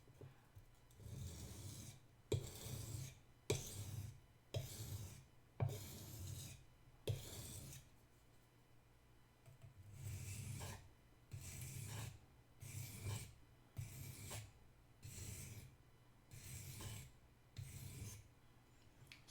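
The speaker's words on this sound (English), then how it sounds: "All right, we'll sharpen it anyway because we're already here." A kitchen knife is sharpened with repeated rasping strokes along the blade, bursts of gritty scraping in an uneven rhythm with short pauses between passes, close and quiet, with no talk.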